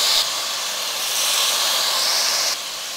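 Soaked basmati rice tipped into a hot pan with cumin, giving a steady broad sizzling hiss that swells slightly midway and eases off near the end, close and loud with no talking.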